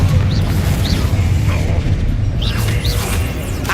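Confringo blasting spells exploding during a Hogwarts Legacy battle, with dense, continuous booming and crackling bursts mixed into loud combat noise, with no clear gaps between blasts.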